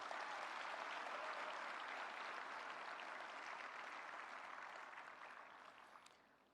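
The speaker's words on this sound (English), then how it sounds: "Give a big round of applause for the entire team which has worked for it." Sustained applause from a large audience at an India–United States summit for signing the Pax Silica Declaration, steady and dense crowd clapping that fades toward the end.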